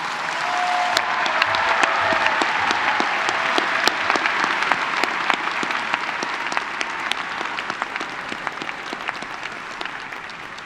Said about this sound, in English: So please give a round of applause to the doctoral degree recipients